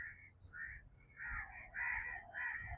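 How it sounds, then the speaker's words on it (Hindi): Several crows gathered over a scrap of bread, calling in short harsh caws that come in quick overlapping bursts, faint and somewhat distant. "इनमें से काफ़ी सारे कौवे जो हैं वो चिल्ला रहे थे"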